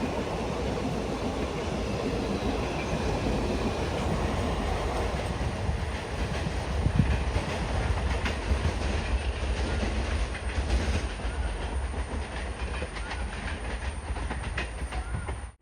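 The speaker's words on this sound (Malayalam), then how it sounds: "മംഗളൂരു തിരുവനന്തപുരം എക്സ്പ്രസ് വരുന്നുണ്ട്" The Mangaluru–Thiruvananthapuram Express runs through Manjeshwar railway station in Kerala with a close, continuous rumble and rhythmic clickety-clack of wheels on rails, steady throughout before cutting off.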